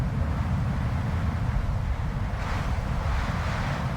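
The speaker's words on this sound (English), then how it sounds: "all of a sudden, out of nowhere, Mother Nature lets out one huge wind gust" Powerful wind gust in a Midwestern storm, a loud, steady roaring rush that swells further toward the end, buffeting close and alone without voices.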